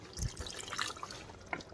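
A glass of water is poured into a pot of cooked chicken, a brief, faint splash and trickle with a few scattered drips.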